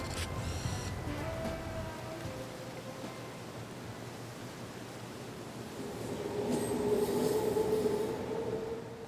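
A train in Italy rumbles along the tracks with a steady low roar, wheels squealing high and thin as it moves past.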